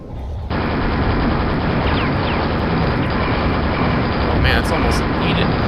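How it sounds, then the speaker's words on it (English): Super nail gun from Quake firing continuously, a dense sustained stream of rapid shots starting after a brief quiet moment and holding loud and steady throughout. "Super nail gun."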